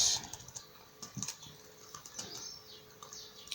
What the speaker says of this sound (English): So hit the caps lock button and just type start.